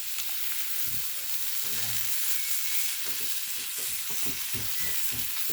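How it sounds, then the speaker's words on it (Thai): Pork sizzles in oil on a marble stone grill, a steady close hiss filling the whole stretch, with occasional low clicks and stirring scrapes. "เราใช้เป็นหิน อ่อนนะแผ่นหิน อ่อนใส่น้ำมันหน่อย"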